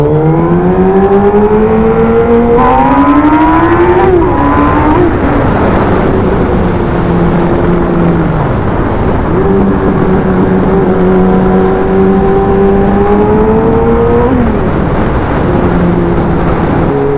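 A motorcycle engine revs hard and loud throughout, its pitch climbing and dropping with repeated gear changes as it accelerates fast through road traffic.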